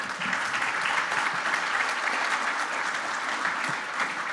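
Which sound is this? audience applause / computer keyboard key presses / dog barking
audience applause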